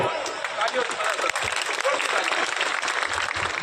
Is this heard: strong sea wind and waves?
no